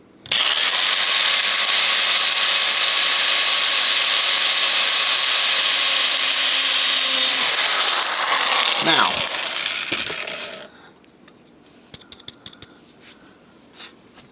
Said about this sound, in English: We're going to drill it, say, I want it drilled right about here.